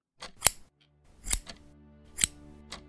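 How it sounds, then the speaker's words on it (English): Four sharp scissor snips ring out one at a time with pauses between, crisp and close in a quiet room. "Harold, put down those scissors"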